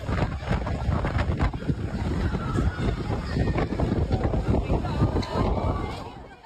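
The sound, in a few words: strong typhoon wind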